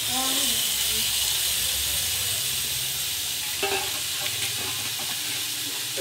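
Washed, still-damp cabbage hits a hot pan with browned ingredients already frying, giving a steady broad sizzle and hiss with faint scraping stir sounds throughout, close and continuous.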